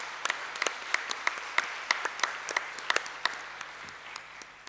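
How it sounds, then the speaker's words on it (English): An audience at a youth summit applauds the participants, a sustained round of many hands clapping with sharp individual claps standing out over the steady patter. "let's give a collective round of applause to all the participants"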